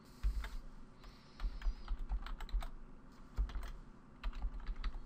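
Rapid, close keyboard typing on a Windows 8 computer while a registry key name is entered, steady clatter of keystrokes with no talk.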